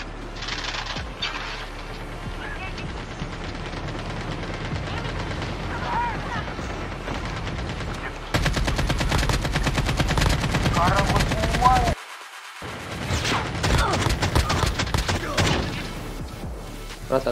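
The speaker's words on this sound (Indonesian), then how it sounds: "Di kiri arah estate ada suara tembakan." Gunfire in the Call of Duty Mobile shooter game during a league match, with rapid bursts of automatic shots, louder dense volleys in the second half, a brief silent gap, and players talking over it.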